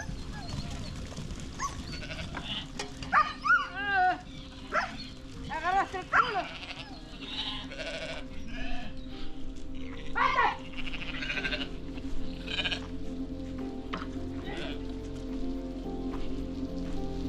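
Sheep bleat repeatedly in short wavering cries over a steady patter like rain, with a voice now and then in the background.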